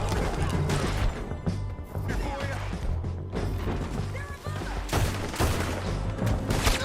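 Dense gunfire in Red Dead Redemption II, with rapid overlapping shots, crashes and impacts forming a loud, continuous barrage that scarcely lets up for the full stretch.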